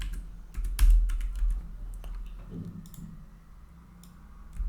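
Keys clack on a computer keyboard in a short, uneven burst of typing, close up and fairly quiet, with a faint low hum underneath and no talking.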